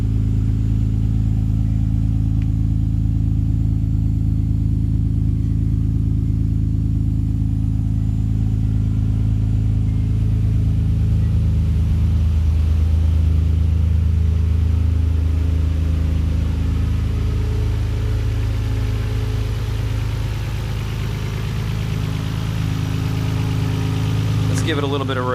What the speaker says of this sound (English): High-pitched whining that you might hear is actually the fuel pump